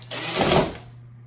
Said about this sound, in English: I'm running my screws through it.